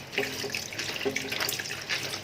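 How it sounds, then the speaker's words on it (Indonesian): Papaya rinsed under a running kitchen tap, a loud, continuous stream of water splashing over the fruit in a sink, close and steady, with no speech. "Ini saya menyiramnya di air yang mengalir."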